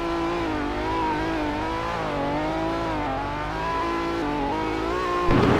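Revving engine of a Lamborghini Revuelto in a driving video game, a steady harmonic drone with shifting pitch through gear changes and a brief burst of broadband noise at the end, alone without talk.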